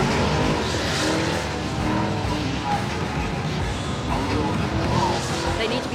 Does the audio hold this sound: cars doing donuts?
yes